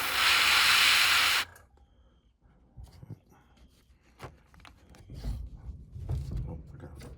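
A close, steady airbrush hiss sprays green paint onto a leopard trout swimbait lure for about a second and a half, then stops, leaving quiet handling noises and soft movement.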